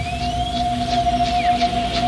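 A colony of dolphins working alongside fishermen vocalizes underwater with repeated rising and falling whistles and chirps, layered over a steady tonal hum and constant water noise.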